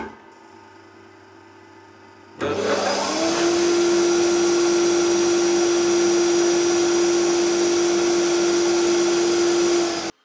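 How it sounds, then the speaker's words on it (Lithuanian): A workshop grinding machine switched on by an automatic start-up system kicks in abruptly after a low hum and then runs loud and steady with a sustained whine until cut off. "Ir paleisiu šlifavimo stakles."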